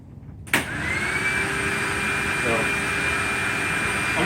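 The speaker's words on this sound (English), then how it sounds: "90 CFM down here, which is way beyond what Electrolux would have ever imagined this power nozzle running at." An Electrolux power nozzle on a vacuum pulling about 90 CFM switches on abruptly with a sharp burst, then settles into a loud, steady motor roar and high whine.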